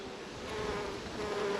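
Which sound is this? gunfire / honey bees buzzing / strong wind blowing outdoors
honey bees buzzing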